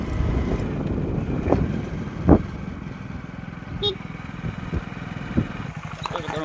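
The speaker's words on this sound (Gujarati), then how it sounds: "અમે બાઇક ચાલુ કરી નાખ્યું છે" A motorcycle engine running nearby at idle, a low, uneven rumble with a few sharper bumps and clicks and some wind buffeting the microphone.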